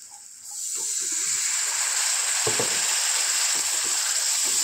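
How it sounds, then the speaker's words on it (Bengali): Spice masala for a small-fish curry bursts into loud, hissing sizzle the moment water hits the hot pan, settling into a steady steamy roar with a few faint clatters. "ভালো করে মশলাটা কষিয়ে নেব। একটু জল দিয়ে দেব।"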